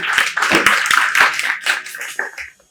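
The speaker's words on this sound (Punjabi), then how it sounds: "ਤਾੜੀਆਂ ਲਾਓ ਬਈ ਕੁੜੀ ਲਈ" Clapping for a girl at a Punjabi institute gathering, a lively burst of many hands applauding at close range, holding steady for a couple of seconds before thinning out.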